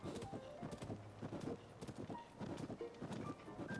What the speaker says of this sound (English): So the horse will follow the path.